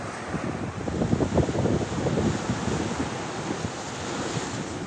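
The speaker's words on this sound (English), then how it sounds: "I've never experienced wind like that." Strong wind on the Gozo coast roars in a steady, broad rush, with gusts buffeting the microphone. Surf churns beneath the wind, and no one speaks.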